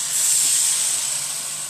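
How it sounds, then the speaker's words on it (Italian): White wine poured into a hot pan where sea bream is sizzling, giving a loud, steady hiss of steam and spattering that holds for the whole moment, close up with no voices. "visto che inizia a sfrigolare e ho bisogno di liquido per far cuocere più velocemente il pesce, vado ad aggiungere un po' di vino bianco"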